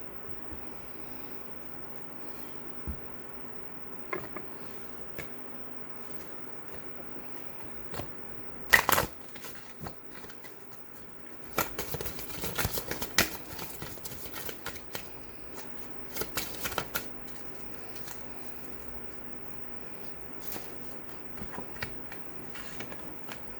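A deck of tarot-style cards shuffled by hand in a quiet room, soft brief bursts of riffling and card slaps at irregular intervals, close and fairly faint.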